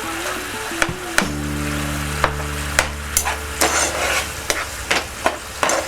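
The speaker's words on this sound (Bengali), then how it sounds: "যেহেতু এটা ফুটছে, এর মধ্যে দিয়ে দিচ্ছি আমরা টমেটো কুচোনোটা" Chopped tomato going into a bubbling prawn curry in a pan brings a steady, close sizzle with a low simmering rumble, broken by a few sharp spoon clicks against the pan.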